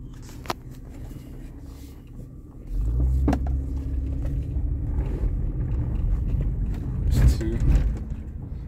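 A 2003 Chevy Monte Carlo with a new transmission and TCM idles, then the engine load rises into a steady low rumble as it goes into gear and shifts, with a brief rev near the end; a person talks briefly over it.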